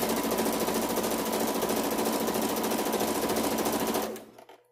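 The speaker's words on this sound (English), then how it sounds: "Again, I lock stitch back and forth." A sewing machine lock stitches back and forth across a fabric face mask with t-shirt ties, a loud, steady rapid mechanical whirr running close up for about four seconds before stopping abruptly.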